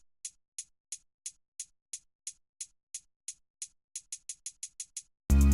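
A programmed hi-hat pattern in a beat for a song, crisp ticking hits at an even pulse that tighten into quicker rolls near the end, followed by a sudden loud burst.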